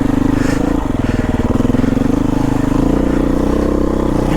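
A Beta 500RR-S dirt bike's big single-cylinder engine chugs at low revs on a rough mountain trail, a close, loud, pulsing thump with slight throttle swells and mechanical clatter throughout.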